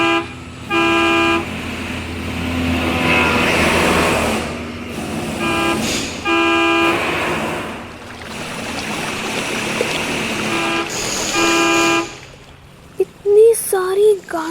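Many cars pass on a busy road with a steady rush of traffic, broken by repeated loud horn toots and honks, and a voice speaks briefly near the end.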